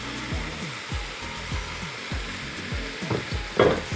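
Chicken and tomatoes sizzle in a pot for gouagouassou, a steady frying hiss broken by repeated scraping stir strokes and a brief louder splash near the end.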